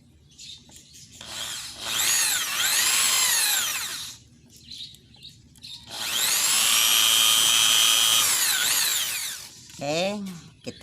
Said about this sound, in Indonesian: Kita bor baik di belakangnya juga sama.